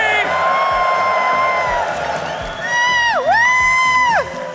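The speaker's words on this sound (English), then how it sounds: "Can we get one more cheer?" Esports arena crowd roaring and cheering, a loud dense wall of voices with whoops and chants surging near the end, under an amplified host voice.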